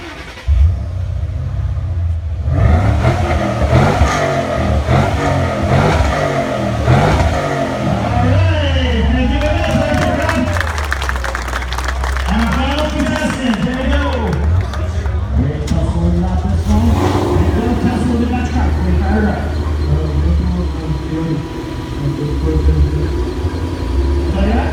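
A 4.6 liter Mustang with dual Flowmaster exhausts and a full air intake revs loudly and close, with engine rumble rising and falling through repeated pulls while people talk over it.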